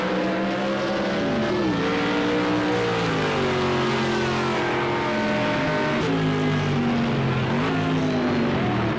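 Race car engines in Project Cars 2 on the Algarve circuit roar loudly and steadily, their pitch sweeping up and dipping through gear changes as several cars rev close together, with no talk over them.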